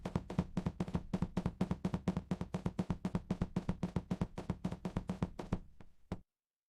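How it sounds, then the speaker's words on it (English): A hand taps a table over and over in a quick, steady rhythm of close, dull knocks that stop suddenly near the end. "I am tapping the table."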